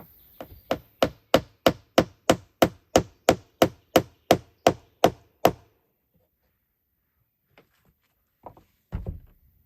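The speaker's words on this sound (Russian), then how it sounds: "ограничитель я сейчас вот с этой стороны прибью." Hammer blows driving a door stop into the wooden frame of a door in a handbuilt dugout cabin by a forest stream: about fifteen sharp, evenly spaced close strikes in a steady rhythm, then quiet with a few faint knocks and a thud.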